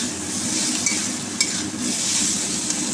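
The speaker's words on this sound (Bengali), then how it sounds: "সবজিগুলো ভালো করে ভেজে নেব।" Mixed vegetables with turmeric and chilli powder frying in mustard oil, a loud continuous sizzle with stirring scrapes and light clicks throughout, no voices.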